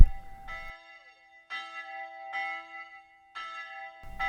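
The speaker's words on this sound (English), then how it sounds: "Then the bells of the church began to ring" Church bells ring in slow, evenly spaced strikes, each resonant peal lingering and fading before the next, with some low rumble at start and end.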